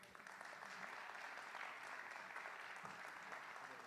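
An audience at a tech forum on gaming and esports applauds a panel of speakers, with even, continuous clapping that stays fairly distant and soft for the whole stretch.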